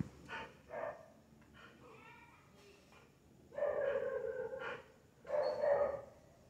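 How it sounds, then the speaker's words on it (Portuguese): A dog, a pet that rarely barks, gives a few short barks and yips indoors, close and moderately loud, in two brief bursts with quieter whimpering sounds between. "Vegas, vem aqui dar mais uma latida pro povo ver que você late assim."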